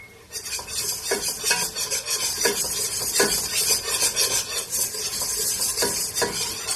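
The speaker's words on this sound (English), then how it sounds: "I'm going to let the butter with the flour and the oil saute for a couple of minutes" Butter, flour and oil sautéing in a pan for a Greek pastitsio sauce, a soft continuous sizzle with repeated scraping strokes of a utensil against the pan, close and fairly loud.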